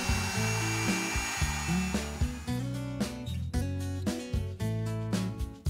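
Router fitted with a bit and guide bushing cuts into the replaceable PVC edge guides of a Woodpeckers dado jig, a loud, steady motor whine with tonal shifts and repeated bursts as the bit bites, with no talk.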